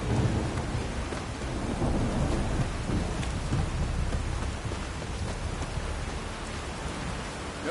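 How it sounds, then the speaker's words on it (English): A storm in The Witcher 3 brings heavy, constant rain with deep, rolling thunder rumbling beneath it, a dense and loud wash of weather with no voices. "The storm, damn it."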